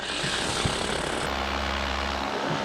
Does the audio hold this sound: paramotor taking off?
yes